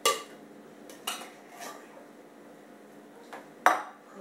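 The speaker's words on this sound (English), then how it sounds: "take our can of cream of mushroom soup. We're going to scrape that in the bowl." A spoon scrapes canned cream of mushroom soup into a bowl, a few close, sharp clinks and scrapes against the metal can and bowl, no talk.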